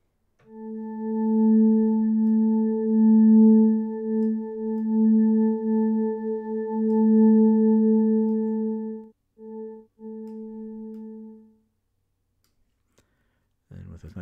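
A sampler instrument built from recordings of rain on an umbrella, played with heavy reverb as one steady, sustained pitched tone for about eleven seconds. It fades with a brief stutter, then a short click follows.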